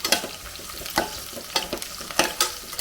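Oil heats and sizzles in a preheated pressure cooker, with sharp clattering stirring strokes repeating every half second or so over a steady close frying hiss.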